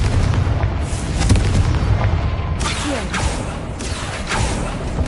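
Confringo fire spell blasts in Hogwarts Legacy, a string of loud booming explosions rumbling one after another with crackling bursts on top, continuous and heavy.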